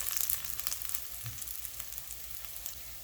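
Fairly quiet, steady sizzling of food being fried in hot oil for Trini karhee, with soft crackles and pops throughout and a slightly busier start, no voices.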